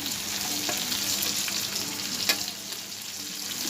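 Onion and garlic fry in a pan, a steady close sizzle with a few sharp spits and stirring clicks, heard alone without voices.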